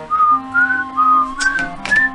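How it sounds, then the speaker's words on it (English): Someone whistles a short tune up close, a series of clear sustained notes in a simple melody with no talking. "you can stop doing fucking whistling"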